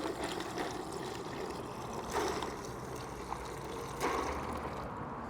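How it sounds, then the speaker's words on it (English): Hot brine pours from a container onto about four pounds of ice in a briner bucket, a continuous watery splashing and trickling with a few louder surges, close and unaccompanied by talk. "just pour our hot brine on top"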